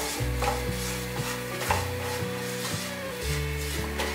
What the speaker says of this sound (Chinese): 用小火炒香腰果